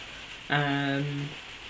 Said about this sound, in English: I'd just like to apologise for the rain